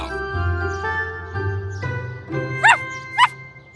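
A small cartoon dog gives two sharp yips near the end, with soft jingling and faint background sounds.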